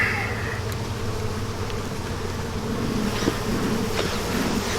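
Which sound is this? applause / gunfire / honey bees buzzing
honey bees buzzing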